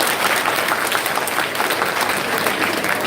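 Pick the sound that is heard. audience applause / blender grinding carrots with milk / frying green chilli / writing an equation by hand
audience applause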